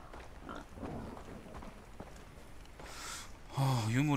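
A pig in Far Cry 3 grunts and oinks near the end, a short loud burst of wavering snorts following a stretch of game noise and a person talking.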